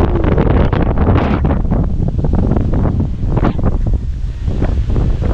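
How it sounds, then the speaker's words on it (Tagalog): Strong wind at sea roars against the microphone in a continuous, loud, rumbling buffet with surging gusts, and no one speaks. "lakas ng hangin."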